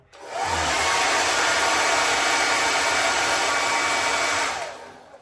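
A hair dryer blows steadily on a freshly applied fiberglass shower repair swatch, a loud continuous whoosh starting sharply, holding even for about four seconds, then cutting off.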